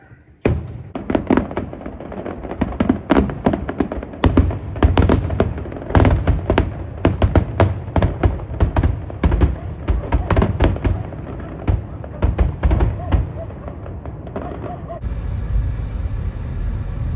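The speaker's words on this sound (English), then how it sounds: "Can you believe our town's setting off fireworks" Town fireworks go off nearby in a rapid, irregular barrage of loud cracks and booms, bursts overlapping for many seconds before settling into a rumbling tail.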